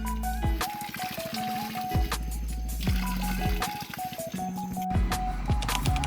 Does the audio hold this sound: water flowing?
yes